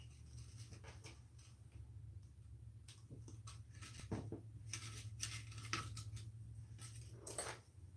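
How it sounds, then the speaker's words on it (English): Craft wire cut for antennas on an Easter decoration, with a few quiet snips and clicks from the cutters plus light handling rustle, close but faint over a low hum, no talking. "let's just cut some wire here."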